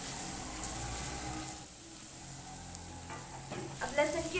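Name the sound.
ginger garlic paste frying and stirred with onions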